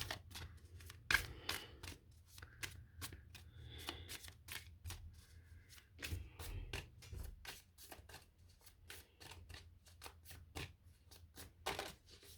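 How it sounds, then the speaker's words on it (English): Oracle cards being shuffled by hand, a long run of quick crisp riffles and taps, quiet and close, with brief pauses between bursts. "I just realised I need to shuffle these."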